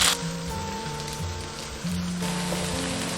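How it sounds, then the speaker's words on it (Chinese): Radish cake fries gently in oil over low heat, a soft, even patter like light rain, heard close and alone, with faint tonal hum beneath. "热锅倒冷油，下入萝卜糕，小火慢煎"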